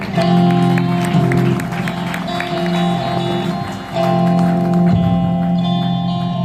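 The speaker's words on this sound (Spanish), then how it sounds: "un fuerte aplauso a Dios en esta hora" A church congregation applauds during a youth preaching service, clapping mixed with sustained tonal music or organ-like chords, fairly loud and continuous with a brief dip midway.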